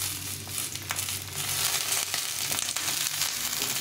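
Green beans fry in a pan for a vegetable pulao, giving a continuous close sizzle with light crackling and occasional stirring rustles, moderately quiet and without voices.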